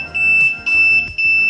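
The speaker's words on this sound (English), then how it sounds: "you see now it's now showing us fire alarm" An intruder and fire alarm recorder sounds its fire alarm, a loud, shrill, high-pitched electronic tone in three repeated bursts of roughly half a second each, separated by brief gaps.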